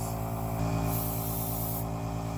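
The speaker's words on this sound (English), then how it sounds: "Test the airbrush just a little bit here on the side of the box." An airbrush sprays a short test burst of paint onto the side of a box, giving a steady close hiss that holds for a couple of seconds over a constant compressor hum.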